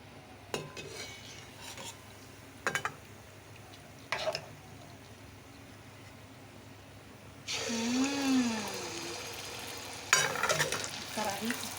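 Pua, sweet fritters, frying in a kadhai in a home kitchen: scattered clinks and scrapes of a spoon against the pan, then a sustained loud sizzle of batter hitting hot oil, followed by more utensil clatter.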